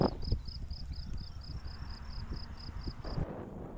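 Crickets chirp in open countryside fields near Móstoles, a thin regular high pulsing trill running steadily, with light wind rumble beneath, until it cuts out near the end.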